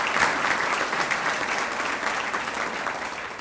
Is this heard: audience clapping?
yes